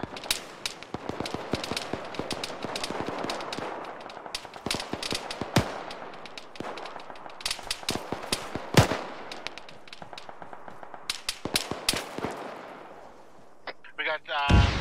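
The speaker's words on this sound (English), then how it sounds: "We got fire coming to southeast" Incoming gunfire from the southeast during a platoon mission, with dense bursts of sharp shots and heavy booms cracking almost continuously near and far, some rapid volleys like machine-gun fire, and a voice talking briefly at the end.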